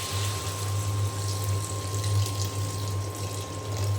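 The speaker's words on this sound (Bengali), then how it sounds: "পানি দিয়ে দিলাম।" Water pours steadily into a pan of cooking curry, a continuous close rushing splash over a low electrical hum, with no talking.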